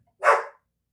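One sharp, loud dog bark sounds close by, a single short burst in otherwise silent surroundings.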